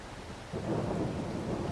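Rain hisses in Farming Simulator 22, and a deep roll of thunder swells in about halfway through and then rumbles on under the downpour.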